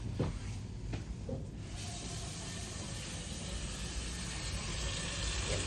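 Tap water runs steadily into a sink for hand washing, a continuous broadband hiss that starts a little thinner and fills out after a second or two, with a few faint knocks near the start.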